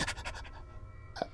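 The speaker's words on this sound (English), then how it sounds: "that's all you get is a sort of intense high panting, which you think means running." Fast, high-pitched panting in quick bursts, faint and somewhat distant, followed by a brief louder scratchy sound near the end, with no talk over it.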